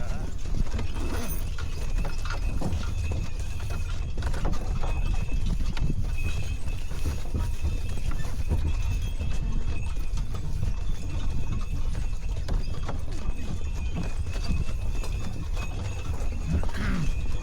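Steady clopping of a team of horses pulling a sleigh, with jingling, rattling harness and mechanical creaks, continuous and fairly close, with some outdoor winter ranch noise throughout.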